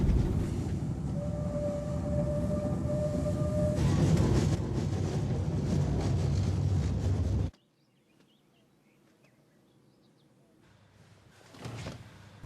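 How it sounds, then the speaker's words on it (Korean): A train draws near with a steady heavy rumble and a faint horn-like tone, building for several seconds before cutting to near silence, then a brief rise at the end. "열차가 가까이 왔음을 본 아버지."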